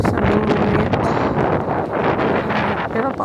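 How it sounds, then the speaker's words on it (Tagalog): Strong wind gusts across a lake during a trout-fishing outing, roaring and buffeting the microphone in a continuous loud rumble with no letup. "Ang lakas kasi ng hangin, tingnan nyo yan."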